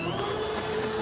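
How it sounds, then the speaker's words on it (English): A Mercer blender purees potato leek soup with a steady, loud motor whine and churning hum, continuous and close throughout the short burst. "I'm going to use my Mercer blender because it's just fun to use"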